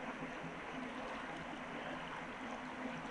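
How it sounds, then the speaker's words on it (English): Water rushing in an outdoor stream, a steady, dense, continuous wash with no pauses, close and fairly loud, with no voices. "All I hear is the water rushing and sploosh splash."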